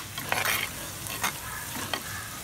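Onions and tomatoes softening in a hot pan with salt for Andhra-style crab pulusu, a steady close sizzle with a few brief stirring scrapes.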